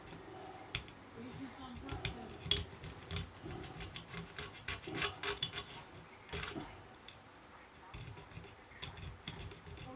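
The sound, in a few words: scraping residue off a part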